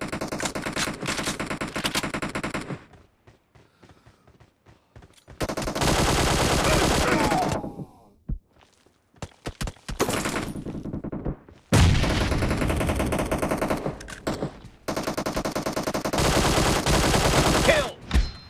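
Rapid assault rifle bursts fire in the mobile battle royale game PUBG Mobile, loud, dense automatic volleys broken by short quiet gaps, with game voice callouts among the shooting.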